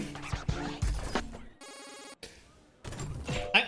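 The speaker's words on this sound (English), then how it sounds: "Ding, ding, the bell has rang." Bell ringing sound effect in the Jackbox game Mad Verse City, a bright metallic ring heard briefly between short bursts of cluttered game sounds and voice-like noise.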